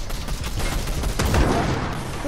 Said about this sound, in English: Hey, who's shooting?